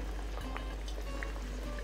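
Soft, steady simmering bubbles from a pot of meat and carrots cooking until the carrots soften, with small pops and gurgles over a low hum.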